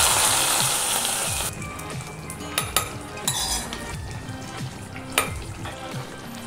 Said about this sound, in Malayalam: കറിയിലോട്ട് ഈ കടുക് പൊട്ടിച്ചിട്ട് കൊടുക്കുന്നുണ്ട്